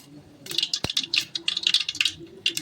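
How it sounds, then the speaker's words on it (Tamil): Half a spoon of mustard seeds splutters in hot cooking oil for an egg curry, with irregular sharp crackles and pops bursting close by and one louder snap near the start. "கடுகு 1/2 ஸ்பூன் போட்டுக்கலாம்"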